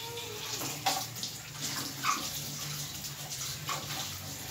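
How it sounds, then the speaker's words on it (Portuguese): Refrigerator parts are rinsed under a running tap, a steady rush of water with brief splashes and clatters as pieces shift under the flow, no talking. "eu gosto de enxaguar com água corrente"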